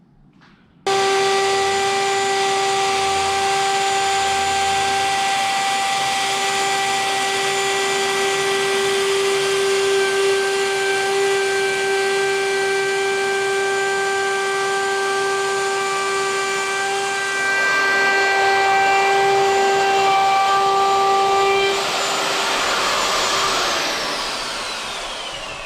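A router with a small round-over bit cuts along the edge of a hardwood butcher block table, a loud, steady high whine that starts abruptly and holds for over twenty seconds before tapering off, with no talking.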